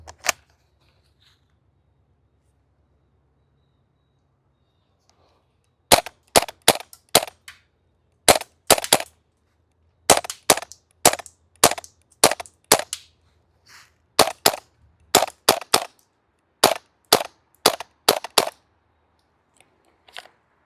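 Krytac KRISS Vector gas blowback airsoft SMG plinking at targets: a quiet start, then sharp, close snapping shots in singles and quick doubles that continue irregularly to the end, with no talking.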